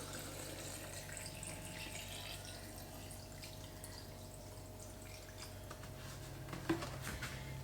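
White vinegar pours into a glass jar packed with lemons, a steady low trickle running throughout at moderate level, with a slight thump near the end.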